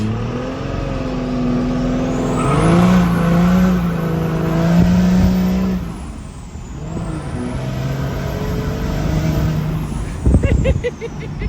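A 1000-horsepower 12-valve Cummins diesel truck launching as the clutch is unloaded at 3000 RPM, with a loud, sustained engine roar and rising turbo whistle, a brief dip midway, then harsh rattling bursts near the end.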